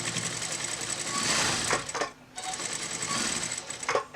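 Sewing machine stitching a quarter inch around the top edge of a quilted book sleeve, a close steady whirring run with one brief pause before stitching resumes.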